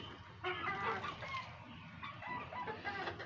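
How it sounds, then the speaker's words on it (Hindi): Chicks and other poultry cluck and chatter together at a farm, several overlapping calls of moderate loudness in a noisy outdoor setting, with no talking. "और आपको चूज़े भी दिखा देते हैं"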